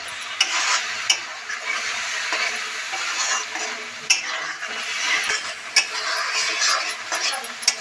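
Spice paste with chili powder fries in hot oil in a pan for jackfruit gravy, sizzling steadily while a spatula stirs and scrapes close by, with occasional sharp clinks of metal against the pan and no talking.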